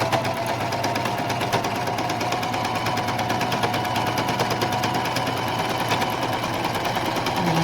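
A sewing machine runs steadily and close by as it stitches cloth mask straps, back-stitching at the mask edge, with a continuous rapid mechanical whir and needle chatter throughout and no talking.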